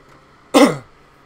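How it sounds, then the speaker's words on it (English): A single harsh cough from someone with a chest infection, one sudden loud burst that fades quickly in an otherwise quiet room. "Sorry for coughing, guys."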